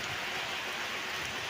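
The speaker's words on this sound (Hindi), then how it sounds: "और अब इधर एरिया में भी बारिश हो रही है।" Rain falls steadily in the Himachal mountains, a soft, even hiss of drops with no voices or other sounds.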